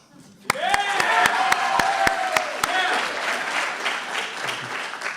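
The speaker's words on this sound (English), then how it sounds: "Yeah, a round of applause" An audience at a film and media senior recognition event breaks into a round of applause that builds quickly and holds steady, with sharp individual claps standing out near the front and a voice talking over it.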